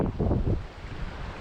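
Strong wind gusts across Loch Lee in winter, a broad low rumble buffeting the microphone, loudest in the opening half second and then easing to a steadier, softer roar.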